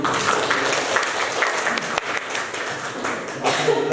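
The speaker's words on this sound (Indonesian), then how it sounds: "beri tepuk tangan dulu." A class at a vocational school applauds inside a room, a steady spread of many hands clapping at moderate loudness, with a few brief voices over it.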